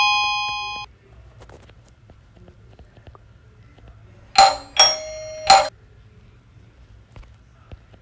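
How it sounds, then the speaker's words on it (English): A doorbell rings with bright, clear chimes: one tone at the start, then three sharp rings in quick succession midway, over a quiet low hum. "Okay, doorbell."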